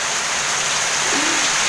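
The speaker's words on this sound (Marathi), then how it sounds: "आणि अचानक हे बघा जोरदार पावसाला सुरुवात झालेली आहे." Heavy rain pours in a dense, loud and continuous hiss that stays even from start to finish, with no talking.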